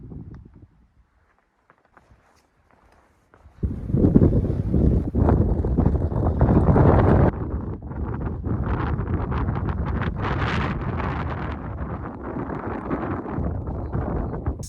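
Gusty wind at a campsite high on a desert mountain overlooking the Rio Grande buffets the microphone, starting near silence before a strong roaring gust and continuing as steady, heavy rushing noise.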